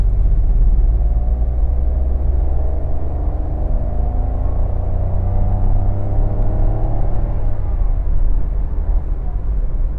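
A 2024 Suzuki Swift, a small car, accelerates on the road, its engine note climbing steadily over a loud, constant low rumble of road and cabin noise, with no talk.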